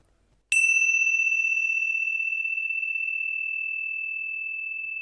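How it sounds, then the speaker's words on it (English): A single strike of a meditation bell rings out on its own, a pure bright tone with a long, slowly decaying sustain. "The sound of the bell moving through time is the present moment"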